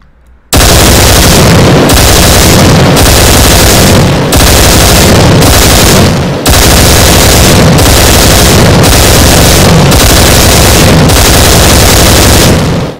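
A paint gun fires in long, very loud, continuous bursts, separated by a few brief breaks, with a harsh, rapid, machine-gun-like roar and no talking.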